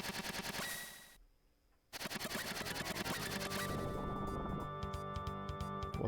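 Fireworks attack effect from the SNES game Chrono Trigger: a rapid string of loud crackling pops and bursts, briefly dropping to near silence, then resuming as a dense, continuous barrage with game music underneath.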